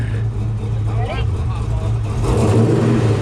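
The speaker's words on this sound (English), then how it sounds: "Rev it up again." A truck engine rumbles and revs up loudly at an outdoor truck show, with people talking over it.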